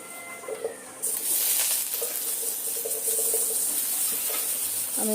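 Vegetable curry tipped into hot oil in a wok sets off a sudden loud, steady sizzle that carries on continuously after a quieter start.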